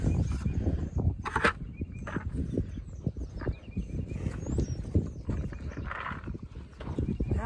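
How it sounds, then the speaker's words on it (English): Horses moving close by with hooves clopping on ground, rustling, and a whinny among the steady busy shuffling. "Nothing but horses."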